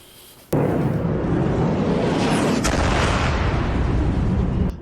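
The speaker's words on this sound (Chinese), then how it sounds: "俄军的无人机从天而降， 油库发生大爆炸。" An oil depot explodes after a Russian drone strike, a sudden loud blast that erupts and then roars as a dense, sustained rumble for several seconds before cutting off.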